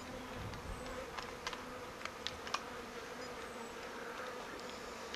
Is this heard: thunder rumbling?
no